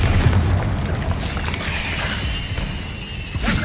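Explosive blast from the Confringo spell in Hogwarts Legacy, a dense booming rumble with crashing debris that holds steady for several seconds at close range.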